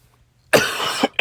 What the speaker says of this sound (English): I'm coughing right now.